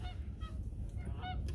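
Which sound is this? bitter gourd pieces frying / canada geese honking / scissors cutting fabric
canada geese honking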